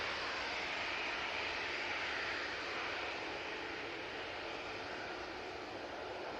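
Ryanair Boeing 737 MAX 8 jet taking off at Manchester Airport, a steady broad roar of engine noise held loud and constant throughout, slowly easing slightly toward the end.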